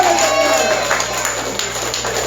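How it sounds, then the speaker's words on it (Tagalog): A congregation at a church anniversary service gives joyful applause, a steady, full-room wash of clapping with a low hum running underneath, heard alone without speech. "sa malipayon nga palakpak"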